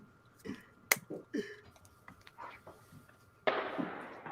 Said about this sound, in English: from the balcony we can hear and we can see fireworks going off like for a good 20 minutes here